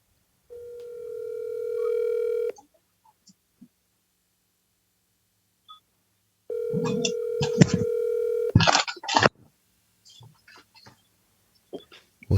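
A telephone call is placed: a steady dial tone, a short pause with a few faint keypad beeps, then the tone again followed by clicks and bursts of noise as the line connects, with sparse faint sounds afterward.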